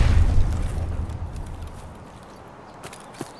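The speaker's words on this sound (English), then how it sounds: "Grenade." Grenade explosion in Escape from Tarkov, a heavy low boom at the start that rumbles and fades over a few seconds, followed by faint scuffs and a small thud.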